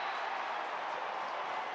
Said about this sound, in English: Gets a round of applause for his efforts.